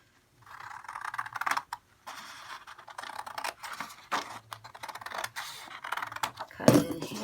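A full sheet of folded cardstock cut in half with scissors, a close run of crisp snips and papery scraping that starts and stops in short bursts, with a sharper click near the end.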